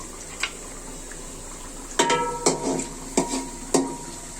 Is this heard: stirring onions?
yes